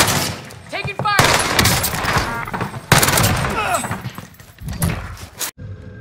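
Gunfire in a shooter video game: bursts of rapid shots and sharp single reports mixed with in-game voices and radio chatter, loud and dense before cutting off abruptly.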